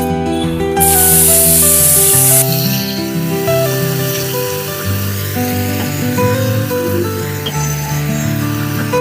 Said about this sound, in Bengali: এবারে যে মশলাটা বেটে রেখেছি পেঁয়াজ রসুন আদা টমেটো ওটা দিয়ে দেব